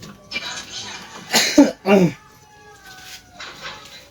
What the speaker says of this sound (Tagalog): Huwag ka nang ubo dyan